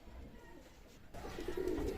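A Lal Pari Teddy pigeon coos softly in a pigeon loft, faint and close, with a slightly louder low cooing toward the end and no talk.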